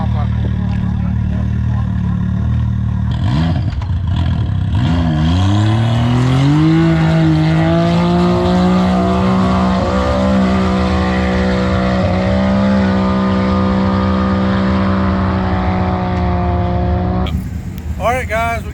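A 2020 Can-Am Maverick X3 Max side-by-side engine screams loud and steady at wide open throttle, with revs climbing and then holding a high, droning pitch for most of the run.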